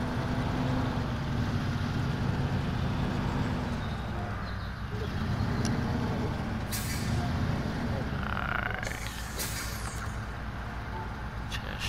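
A heavy truck in Snowrunner strains with all-wheel drive engaged, wheels spinning as it drags a trailer: a steady low engine drone and churning rumble throughout, with brief hissy air-brake bursts and creaks over it.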